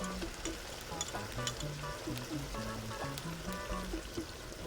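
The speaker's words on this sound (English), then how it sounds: "Now I'm going to add a little bit of the bouillon. The bouillon, the better than bouillon liquid." Better Than Bouillon liquid is poured into a cooking pot of beans for spinach and sausage pasta, a soft steady pour over a low sizzle, with a faint voice in the background.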